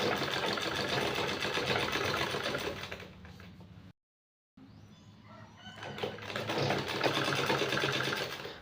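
A sewing machine runs in steady rapid bursts while stitching a sleeve onto a shoulder seam, loud and close, pausing briefly to full silence midway before the whirring stitching resumes.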